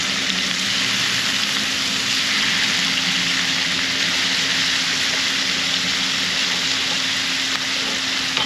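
Mangrove snapper fillets sizzle loudly in a hot pan, a dense continuous crackling hiss with a low hum beneath, steady and close throughout with no talking.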